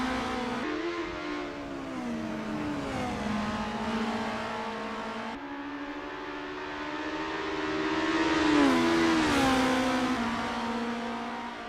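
Race cars in the Assetto Corsa racing game rev and accelerate continuously, engine pitch climbing and dropping through gear changes as a steady, loud drone with no talk.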